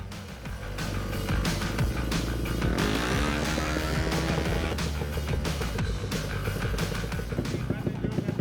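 A Vespa scooter engine runs steadily at a freestyle event, close and fairly loud, with a voice talking over it.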